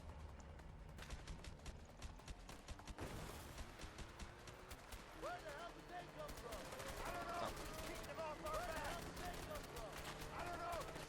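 Gunfire in the video game A Way Out crackles in dense rapid bursts, fairly quiet and cluttered, mixed with game sounds and talking voices.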